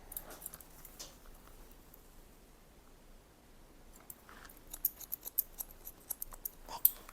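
Scissors snip hair during a round layered cut on a medium-length women's style in a salon, a quiet stretch followed by a run of crisp, close snips that grow busier toward the end, with no talking.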